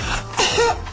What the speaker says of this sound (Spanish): es que no puedo parar de toser así